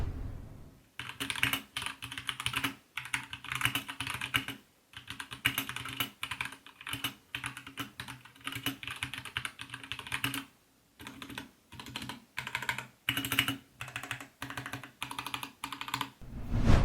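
Keys clatter on a Drevo Seer Pro 60% mechanical keyboard fitted with Gateron red switches, rapid close-up typing in quick bursts separated by short pauses.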